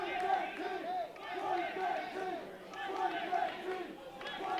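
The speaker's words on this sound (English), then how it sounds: "we got some of the crowd trying to get behind Chris Bay" Wrestling crowd at an FSW heavyweight title match between Hammerstone and Chris Bey, cheering and chanting in steady rhythmic waves that swell and dip, a dense arena roar with no clear talk over it.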